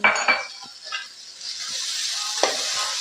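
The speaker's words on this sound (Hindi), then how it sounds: "अब हम लोग इसी के अंदर जो हमारी गोभी है इसको भी शामिल कर लेंगे" Cabbage and vegetables stir-fry in a pan for egg fried rice, with a spoon knocking and scraping against the metal over a continuous sizzle that builds louder after a few initial clatters.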